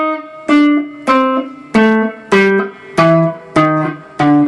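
Electric guitar plays a descending blues scale, sounding the flatted-fifth blue note: seven clear, evenly spaced plucked notes stepping downward, each ringing briefly before the next, close and fairly loud with no talk.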